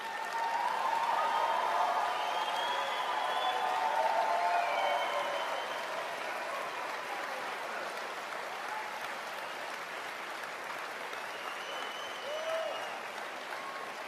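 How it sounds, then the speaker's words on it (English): Sustained audience applause from a large crowd, steady and full for about fourteen seconds with a slight swell near the start and a few faint whistles or cheers above the clapping. "the level of applause is really disturbing."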